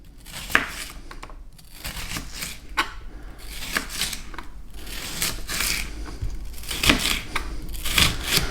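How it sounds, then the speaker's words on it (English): A kitchen knife slices an onion into thin slivers on a board for a stir fry, giving a run of crisp, irregular cutting clicks and crunches at close range. "I'm just going to cut into thin slivers like that, just going all the way down the onion"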